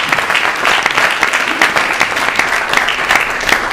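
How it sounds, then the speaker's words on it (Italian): Loud, close audience applause at a presentation event in Pescara, continuous brisk clapping from a crowd filling the whole stretch, with no speech. "un applauso per Claudio,"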